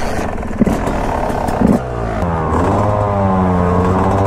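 A Beta 450 dirt bike engine revs loudly and close by, rising and settling in pitch as it warms up, with no talk.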